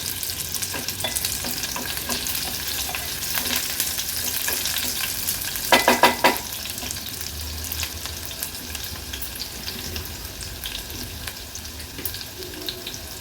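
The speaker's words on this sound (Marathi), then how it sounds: "कांदा तेलावर परतून घ्यायचा आहे।" Half an onion sautéing in hot oil for a Malvani mackerel curry, a continuous close sizzle with stirring scrapes and a short burst of louder clinks midway, no talking.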